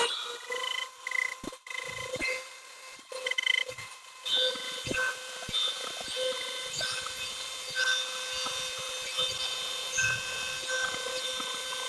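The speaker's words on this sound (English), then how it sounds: "I'm using my old 300 series Dremel with a model 225 flexible shaft, a 106 cutting bit with a fan." An old Dremel 300 series rotary tool on a model 225 flexible shaft, fitted with a 106 cutting bit, whines at a steady high pitch while cutting, with irregular scraping bursts and faint talk mixed in.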